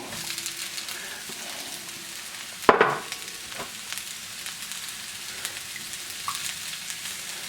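Peppers and onions go into a hot frying pan for vegetable japchae, giving a faint, steady sizzle with one sharp clatter early on and a few light knocks afterward.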